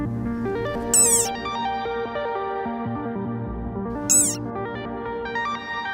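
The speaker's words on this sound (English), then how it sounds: "This little guy's making that cute squeak. The desert rain frog." High, squeaky chirps of a desert rain frog in two short bursts over music, bright and nasal like a small animal's squeak, close and clear.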